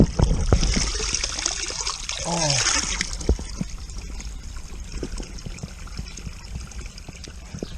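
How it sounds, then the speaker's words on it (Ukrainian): A strong stream of spring water flows and splashes steadily outdoors, close and clear, with a brief exclamation from a man near the start. "Ще такого міцного потоку води в джерелі я не бачив."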